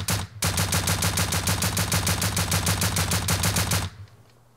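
A suppressed LR300 assault rifle in Rust fires a long automatic burst of rapid, evenly spaced shots that stays loud and close for about three and a half seconds, then stops and leaves a quiet tail.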